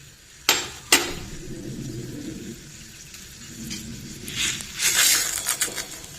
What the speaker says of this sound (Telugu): ఇప్పుడు పోపు గింజలు వేసుకుందాం